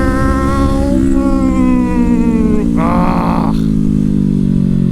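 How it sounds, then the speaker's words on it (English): A motorcycle ridden through traffic accelerates hard, its engine note climbing through the gears with a brief shift partway, loud and close with steady wind rush underneath. "I'm on a motorcycle, which means I can do whatever I want, including take the lane next to him and just speed through this light"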